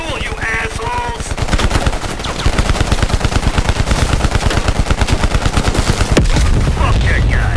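Rapid automatic gunfire from the Call of Duty Cold War video game rattles in a dense, loud, continuous burst of sharp reports lasting several seconds, with brief shouted voices at the start.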